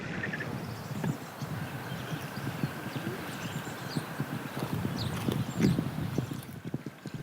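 Horse hooves clip-clopping at an irregular pace in the Danube Delta, fairly faint, over a low wind-like background hiss.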